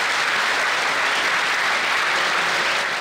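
A packed audience in a hot, stuffy concert hall in Zaprešić gives a steady, dense ovation, continuous applause filling the room without letup.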